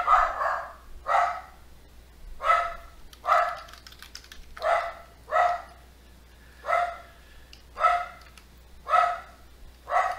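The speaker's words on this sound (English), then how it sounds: "And of course, my dog's barking." A dog barks in short bursts, about a dozen sharp barks at a fairly steady pace, some in quick pairs, loud and close with faint tapping between.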